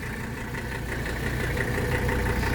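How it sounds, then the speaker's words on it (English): A 1983 Mercedes 300D diesel engine idles steadily and loudly up close, a constant rough mechanical drone with no audible shutoff in this stretch. "Let's go ahead and do a engine shut off here."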